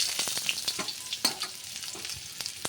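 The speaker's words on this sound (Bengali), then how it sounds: "তেলটা যেই গরম হয়ে গেছে আমি এর মধ্যে দিয়ে দেবো পেঁয়াজ কুচি" Chopped onion frying in plenty of hot oil crackles and sizzles close up, with irregular sharp pops and spoon-scraping strokes.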